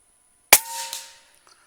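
A single sharp crack from a Kalibrgun Cricket 9mm air rifle, loud and close, then a short ringing tail that fades within about half a second, with a faint tick after.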